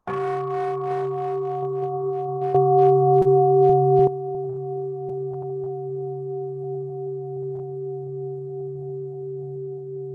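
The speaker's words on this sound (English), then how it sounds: "So I will invite to sound the bell" A mindfulness bell rings at a Buddha Purnima gathering, a sustained pure tone with steady overtones that rings on and slowly fades, with soft shuffling and light knocks during the first few seconds.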